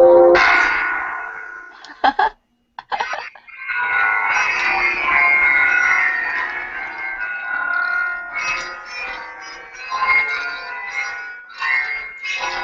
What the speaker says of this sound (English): You get to play some of those 10 bells together